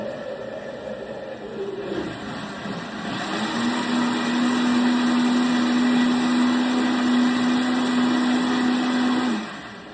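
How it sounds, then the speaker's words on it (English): An electric blender whirs through an oatmeal protein shake, close and loud. Its pitch starts lower, ramps up and then holds a steady high-speed drone for several seconds before stopping. No one speaks. "it makes it easier for me to blend it up in the blender"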